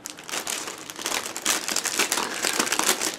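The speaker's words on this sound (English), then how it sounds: "I'm sorry for the rustling if that's a thing that you have a problem with." A plastic package crinkles and rustles continuously as it is opened by hand, close and fairly loud, with irregular crackling bursts and no voices over it.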